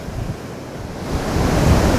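Sea waves breaking on the shore at Calangute beach in Goa, a continuous wash of surf with wind noise on the microphone, swelling louder toward the end, with no voices.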